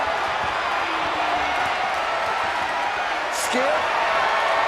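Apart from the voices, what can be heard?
wrestling arena crowd cheering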